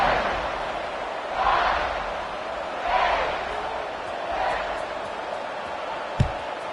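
Stadium crowd roars at kickoff in the college football video game NCAA 26, a steady broad wash of cheering that swells in three waves, with a short sharp thud near the end.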